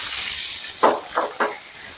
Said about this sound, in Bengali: এরপর এটাকে আমি একটু ভেজে নেব।